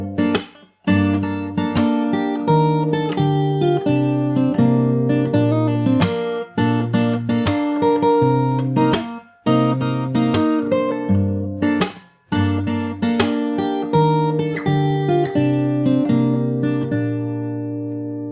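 Fingerstyle acoustic guitar plays the bridge of a song slowly, close and clear, with plucked chords and melody notes ringing out and a few brief pauses between phrases.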